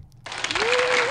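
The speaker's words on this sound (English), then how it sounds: "I love the clapping, man." An audience breaks into sudden, loud, sustained clapping and applause, with a voice speaking over it partway through.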